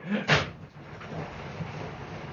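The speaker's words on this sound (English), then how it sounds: "That is my studio door coming down." A studio door rolls down with an initial clank and bang, followed by a rumbling, grinding slide that continues steadily at moderate volume.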